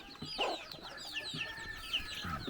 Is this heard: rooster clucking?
yes